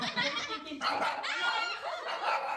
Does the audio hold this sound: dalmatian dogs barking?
yes